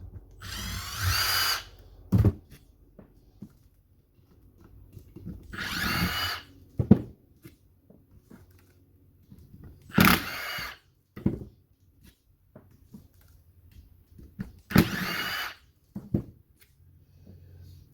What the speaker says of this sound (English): So I'm going to take all these 4 screws out.